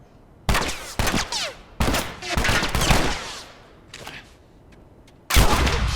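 Gunfire in the video game The Last of Us: several sharp bursts of shots ring out, separated by short pauses, with a final loud burst at the end.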